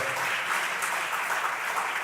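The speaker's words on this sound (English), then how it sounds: "Can I get another round of applause for all of them?" Audience applause at the official launch of the Nigeria Gender Country Programme: a dense, steady burst of clapping from a crowd, sustained at even loudness throughout, with no voices on top.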